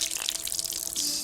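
A hand stirs flavored water in a bucket, producing a brief, close sloshing and swishing of water that runs continuously for a moment with no voices.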